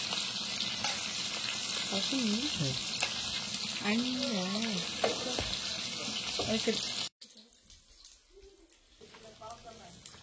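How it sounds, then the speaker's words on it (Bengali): Hilsa fish frying hard in a pan until charred, a steady close sizzle running under voices talking for most of the stretch, then dropping abruptly to a quieter crackle near the end. "দেখতে পাচ্ছেন ইলিশ মাছ ভাজছে একদম পোড়া পোড়া করে"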